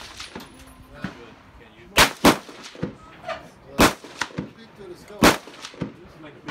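A rifle zeroed for 100 yards fires at a target outdoors, giving four loud, sharp reports spaced a second or more apart, with faint background noise and distant shots between them.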